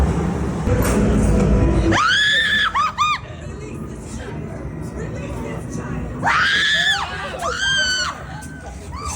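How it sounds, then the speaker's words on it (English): People scream inside a haunted horror maze, two loud bursts of high shrieks and squeals with crowd noise and wind-like rumble between them, heard from nearby. "Those are real screams, everyone."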